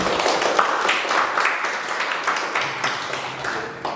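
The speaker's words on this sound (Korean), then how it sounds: "굉장히 재미있는 강연 해주신 교수님께 다시 한번 뜨거운 박수 부탁드리겠습니다" An audience claps warmly after a lecture on constitutional rights, a steady, moderately loud patter of many hands lasting a few seconds with no voices over it.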